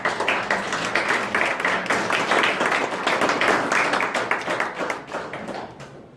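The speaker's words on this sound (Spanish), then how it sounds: "Dale un aplauso al Rey." A church congregation applauding at an Easter Sunday service, a loud, dense burst of clapping from many hands that holds steady for several seconds and then thins toward the end.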